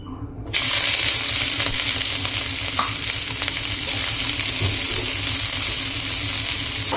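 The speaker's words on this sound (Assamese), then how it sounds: "পিঁয়াজখিনি ভাজা হৈ গ'ল" Onions fry in a hot wok with a loud, steady, hissing sizzle that starts abruptly and holds evenly, with occasional faint stirring clinks.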